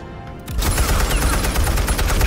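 Gunfire in the Batman Telltale video game erupts after a brief quiet moment, a loud, continuous rapid burst of shots that runs without pause to the end.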